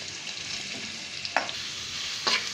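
Onion slices fry in ghee or butter for street-style pav bhaji, giving a soft, even sizzle with a couple of brief scraping stirs, heard fairly close and without speech.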